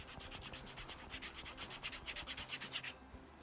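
A potato is rubbed hard back and forth across a woven wire product, giving quick, rhythmic raspy scrapes at close range, quiet and steady, ending abruptly.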